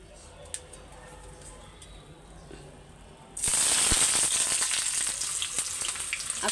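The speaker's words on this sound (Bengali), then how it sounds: "তেলটা গরম হয়ে গেছে, তো আমি এই যে পেঁয়াজটা এখন ভাজতে দিয়ে দিব।" Onions dropped into hot oil for a dried-fish bhuna start sizzling loudly partway through, a sudden burst of frying hiss after a quiet stretch, with crackles continuing steadily.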